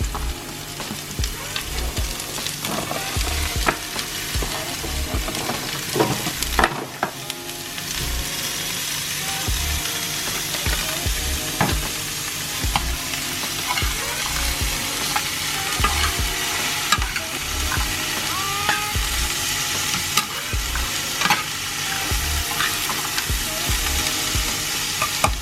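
Papaya and onions sauté in a hot pan for ginisang papaya, with a steady loud sizzle and frequent scraping stir strokes of a utensil against the pan.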